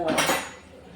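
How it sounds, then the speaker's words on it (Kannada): Utensils and dishes clatter briefly in a kitchen sink during washing, with a quick metallic clank that fades within a second. "ಪಾತ್ರೆ ಎಲ್ಲ ತೊಳೆದಾಯ್ತು"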